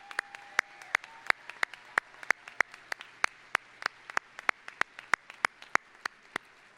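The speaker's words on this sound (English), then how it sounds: "Let's give them a round of applause." Applause at the University of Wisconsin-Parkside 2016 winter commencement: sparse, evenly spaced sharp claps, about three per second, ringing in a large hall, with a faint steady tone near the start.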